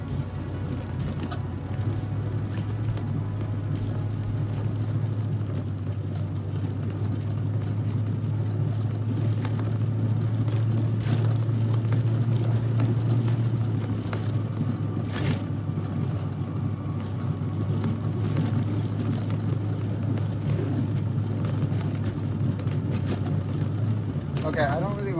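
Corvette with a self-built rebuilt engine driving, a steady low engine drone with road noise that holds throughout, with people talking over it.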